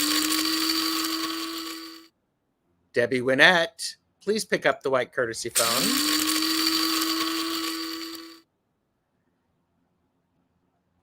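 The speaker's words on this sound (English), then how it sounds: "And that's actually a coffee grinder." An electric coffee grinder whirs loudly in two steady bursts of several seconds each, with a brief stretch of speech between them, each burst ending abruptly in silence.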